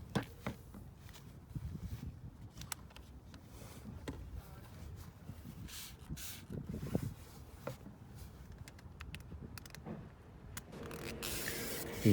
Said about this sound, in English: What you want to do first is spray the door handle.